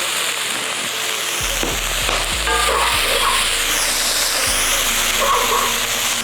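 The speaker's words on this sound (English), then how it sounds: "Now we're gonna saute down these onions, go ahead and add in your green beans." Onions and green beans sizzle and fry loudly in a pan, a dense continuous crackle with occasional stirring knocks and scrapes, no talk heard.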